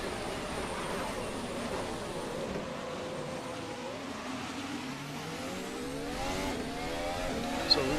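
Engine of an F1 race car in a racing video game, a steady droning roar with rising and falling pitch as it revs through gears, continuous throughout at moderate level.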